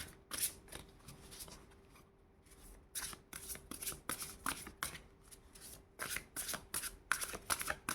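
Tarot cards are shuffled close by in repeated quick riffling bursts, crisp papery flutters separated by short pauses, with no talking.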